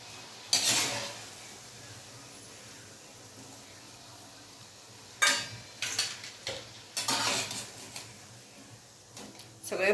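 Pakoda fritters frying in hot oil, with quiet sizzling punctuated by a few sharp metallic scrapes and clinks of a utensil against the pan, some of them close together in short clusters.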